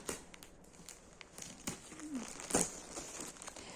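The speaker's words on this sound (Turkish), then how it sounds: "Şöyle poşetimi hemen yırtacağım." A plastic bag holding frost-protection cover is torn open by hand. Close crinkling and rustling runs throughout, with a sharper tearing rip partway through. The sound is fairly quiet and there is no talking.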